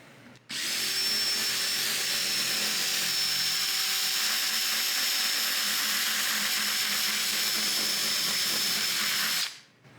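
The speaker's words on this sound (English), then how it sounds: "I'll use a drill bit." A drill bit spinning against a phone screen protector: a steady, loud motor whine that starts abruptly, holds for about nine seconds and then winds down, with no talking.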